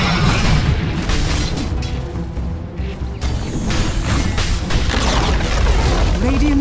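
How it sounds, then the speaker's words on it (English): Booming destruction of a tower in a Dota 2 match, a loud crashing rumble that runs throughout amid busy game sounds. "Radiant's middle tower has fallen"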